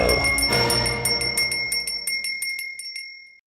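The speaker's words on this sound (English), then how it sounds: "Do you hear the bell?" A bright bell rings in rapid repeated strikes, loud and alone, with the ringing settling into a sustained metallic tone that fades out near the end.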